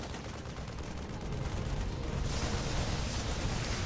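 Dense, continuous gunfire from a large group of Stim Marines in StarCraft II, a loud wall of rapid shots and impacts that grows denser partway through.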